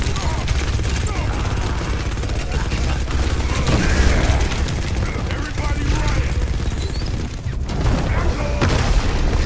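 Mauga firing both guns in Overwatch 2, close and loud: sustained chaingun fire rattling continuously, with explosive booms and mechanical clatter layered underneath.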